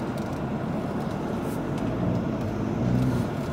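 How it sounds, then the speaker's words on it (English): Steady traffic rumble as cars speed past along a road, a continuous broadband roar of passing vehicles heard nearby from a parked car, swelling slightly toward the end. "Man, all these cars speeding coming up here."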